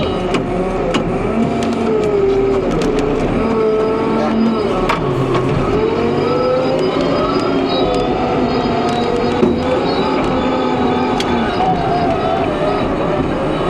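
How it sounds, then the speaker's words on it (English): Telehandler on a farm towing a trailer home during silage baling, a steady loud engine drone with rumbling and rattling throughout, no pauses. "I can just drive home with the telehandler, the trailer"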